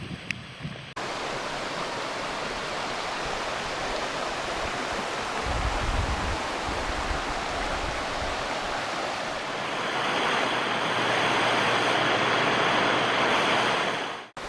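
Steady rain falls at Chapel Rock in Pictured Rocks National Lakeshore, a dense, even hiss that continues without a break and grows slightly brighter and louder near the end.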